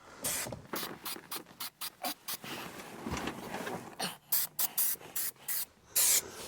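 Spray adhesive for a 1969 Chevy Nova headliner hisses out in repeated short, close bursts inside the car, with brief gaps and some rustling between them.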